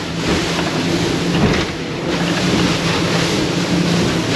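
Ocean waves wash steadily around a boat crossing offshore toward Bimini in rain, a loud continuous surge of water mixed with rushing wind noise on the microphone.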